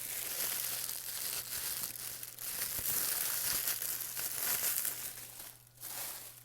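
Continuous close crinkling and rustling of thin red tissue paper from an unboxing, steady and fairly loud, with a low hum underneath and no talking.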